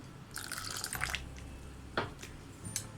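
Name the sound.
water being poured into appam batter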